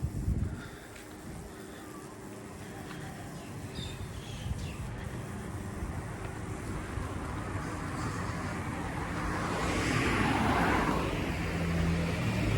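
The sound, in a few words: motorbikes and cars passing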